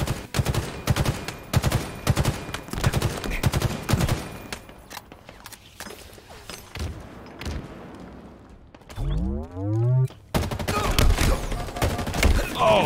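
Sharp repeated shots from a battle rifle in Halo Infinite multiplayer, crisp bursts in quick succession, pausing midway for a swooping sci-fi effect before the firing resumes loudly.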